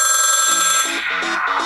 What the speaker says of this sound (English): And both my laptop and my phone are ringing